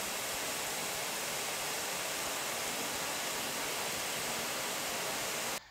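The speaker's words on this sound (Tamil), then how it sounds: "எண்ணெயில் பூந்தி போட்டதுமே ஒரு 30 செகண்டில் நீங்கள் எடுத்துடுங்க" Boondi batter sizzles steadily in a pan of hot oil while the sweets for boondi laddu are made, a dense, even frying hiss that carries on without a break until it cuts off at the very end.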